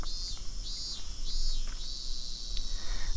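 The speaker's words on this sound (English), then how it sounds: "The cicadas made an annoying fuss." Cicadas in the video game Higurashi When They Cry drone in a continuous shrill chorus, with pulsing high buzzes rising and falling over a low background rumble.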